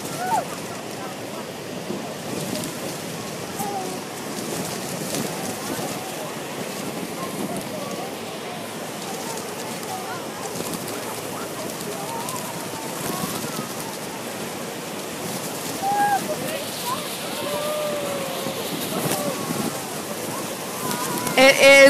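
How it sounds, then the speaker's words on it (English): Horseshoe Falls at Niagara roaring steadily as heard from a cruise boat close below it, a continuous broad rushing wash of water and spray with wind, loud and unbroken, with a voice talking over it. "welcome to the Horseshoe Falls"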